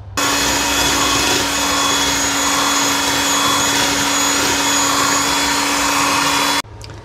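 An electric mixer beats cream cheese in a bowl, a loud, steady motor whir with a constant hum running unbroken for about six and a half seconds before it abruptly cuts off.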